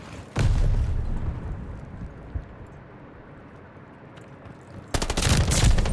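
Gunfire in Call of Duty: Vanguard comes as rapid automatic bursts, one short burst at the start and another at the end, both loud and close, with a low rumbling game ambience between them.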